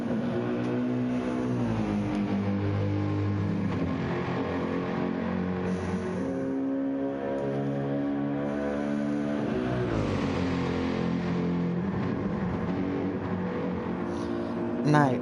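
Race cars at Le Mans in a racing video game, engines whining as they rise and fall through gear changes near the Porsche curves, with a commentator talking over them.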